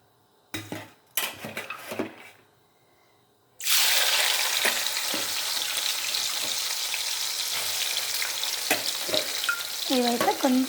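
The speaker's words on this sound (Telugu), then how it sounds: "ఇప్పుడు మనం ఇవి శనగబేడలు వేసుకుందామండి." Chana dal dropped into hot oil, a few clinks of utensils first and then a sudden loud, steady sizzle that fills the rest of the clip, with stirring and scraping over it.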